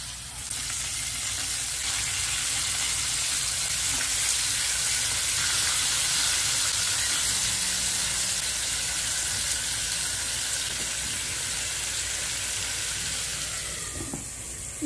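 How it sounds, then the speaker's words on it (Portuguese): Free-range chicken pieces sizzling in a pan without oil, with a pinch of sugar added to brown them over medium heat; a steady, continuous frying hiss with occasional stirring, no voices. "Coloque uma pitada de açúcar para dourar bem os pedaços de frango."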